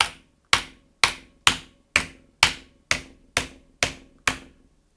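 Blue-switch mechanical keyboard keys pressed one at a time with a metallic plate-like ring after each, ten sharp clicky strikes at an even half-second pace, close and alone.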